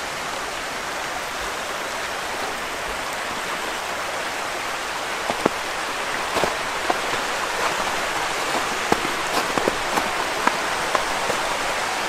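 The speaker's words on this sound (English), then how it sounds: "That is the little creek that goes off to the side." Water in a creek flows near a waterfall in snow and ice, giving a steady, even rushing wash with faint scattered drips and splashes and no voices.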